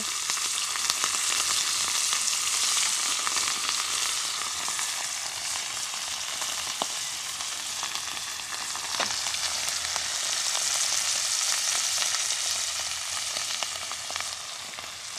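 Food frying in plenty of oil outdoors in a backyard, a loud, even hiss of sizzling that swells and eases over time, with a couple of faint clicks and no speech.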